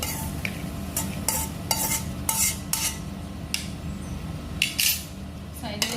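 Fried pumpkin pieces are shifted onto a plate with metal utensils, making a string of light clinks and scrapes at irregular intervals, close by over a low background hum.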